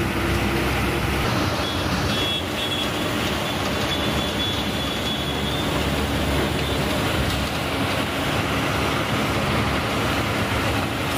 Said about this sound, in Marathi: समोर फ्लायओव्हर ब्रिजवरून घाटकोपरकडे जाणारी मेट्रो ट्रेन दिसत आहे